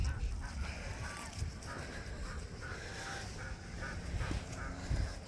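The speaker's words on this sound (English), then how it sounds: "You hear them seagulls?" Seagulls call over an open lake shore, their squawks sitting fairly faint within a constant wash of wind and water noise for the whole stretch.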